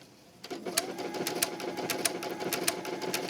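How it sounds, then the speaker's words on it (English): A sewing machine stitching down fabric for a wrap dress, starting up and running steadily with a rapid mechanical whir and rhythmic ticking, close and continuous. "Start stitching down."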